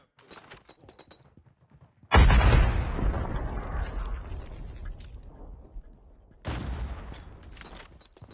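A grenade blast blows apart a weaponized war machine in COD Mobile, hitting with a sudden loud boom and long rumbling decay, followed a few seconds later by a second, smaller burst of gunfire or explosion.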